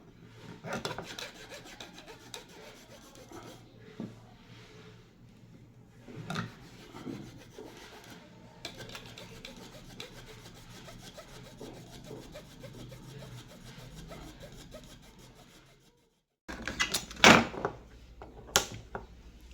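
Hardened glue is scraped off a broken eyeglass frame. Close, quiet rasping strokes repeat steadily, pause briefly, then resume with a few louder, sharper scrapes.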